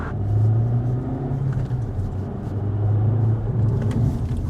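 2019 Suzuki Swift Booster Jet driving along, a low, muted engine rumble with a quiet exhaust that swells and eases gently as the car pulls, no voices over it.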